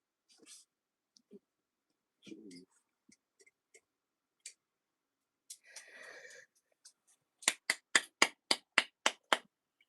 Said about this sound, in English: That's the baby clapping.